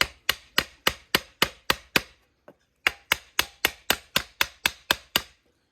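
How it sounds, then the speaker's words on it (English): Steady metal-on-metal hammer blows driving a rotary clothes line ground spike, about a dozen sharp evenly spaced strikes, a brief pause, then another run of blows, loud and close. "once you hammer it in to a certain degree"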